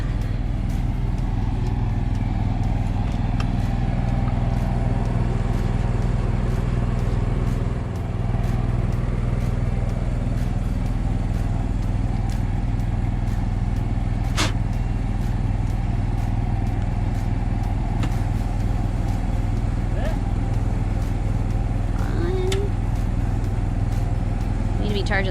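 An RV generator drones steadily and loudly nearby throughout, a constant low engine hum, while people talk intermittently over it and a few faint clicks and knocks occur.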